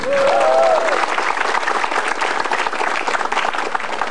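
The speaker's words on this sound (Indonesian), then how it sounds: "Tepuk tangan." Audience applause at a stand-up comedy show: a loud, dense crowd clapping that holds steady for several seconds, with a brief voice at the start.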